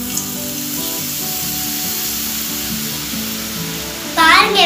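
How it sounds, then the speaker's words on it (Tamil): Boondi batter frying in hot oil for kara boondi, a continuous loud sizzle with steady bubbling throughout, rising briefly near the end. "பூந்து செய்யும் போது எண்ணெய் நல்லா காஞ்சிருக்கணும்."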